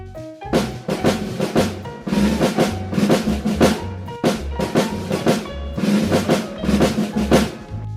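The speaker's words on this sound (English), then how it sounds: "This is the sound of marching drum." A marching drum pattern plays loudly with steady rhythmic hits, repeating in cycles over a continuous musical backing.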